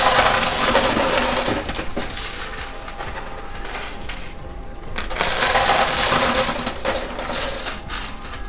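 Coins clatter and cascade continuously inside a high-limit coin pusher machine, a dense, loud metallic jingle with no talking.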